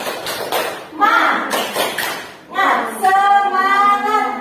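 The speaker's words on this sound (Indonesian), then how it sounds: "Kita tepuk semangat." Children in a classroom do the rhythmic 'tepuk semangat' spirit clap, with quick bursts of claps mixed into loud group chanting voices that rise and fall over a few seconds.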